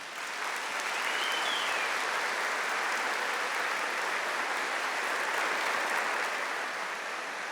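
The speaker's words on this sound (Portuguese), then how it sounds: "Aplauda esse seu irmão que está do seu lado." A church congregation applauds steadily for several seconds, a dense, even wash of clapping with no voices over it.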